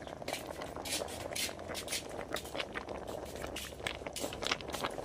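Homemade tamales boil in a pot with a steady, soft bubbling and crackling hiss, fairly quiet and continuous throughout.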